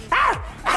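A dog barks sharply once up close, followed by the start of a second bark.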